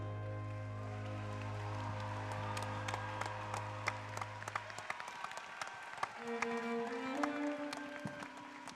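Audience applause at an academic competition ceremony in Beijing, scattered clapping building to a steady patter over a sustained musical tone that drops away midway, fairly faint and distant.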